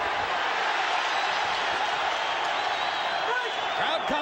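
A boxing crowd at the 2003 Pacquiao vs Barrera fight makes a dense, continuous roar of cheering and noise throughout. A commentator's voice is faintly audible within it.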